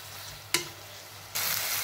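Spices tempering in hot oil for a Maharashtrian pithla, a soft steady sizzle broken by a sharp clink, then a louder, brighter frying hiss as more goes into the pan.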